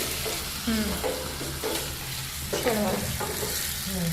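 Cumin, asafoetida, green chilli and ginger-chilli paste crackle and sizzle in hot oil for a Gujarati vaghar, a steady close fry with scraping stir strokes and faint background sounds, no talking.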